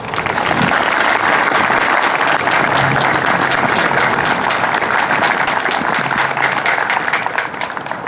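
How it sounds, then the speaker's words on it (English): Loud, sustained applause from a large crowd at a veterans ceremony, dense steady clapping for several seconds before easing slightly at the end. "Please give all the veterans and their families here a round of applause."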